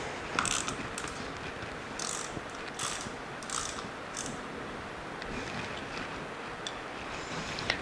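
Rapid ratcheting clicks come in short bursts as the passenger floorboard bolts are tightened on a 2022 Harley-Davidson Road Glide ST. The wrench sounds up close and alone, and no one talks.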